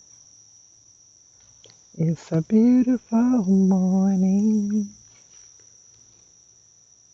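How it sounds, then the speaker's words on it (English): Crickets chirp in a steady high drone outdoors on a morning in a backyard, continuing faintly under a man's brief spoken remark in the middle. "listening to Mother Nature, crickets and the birds"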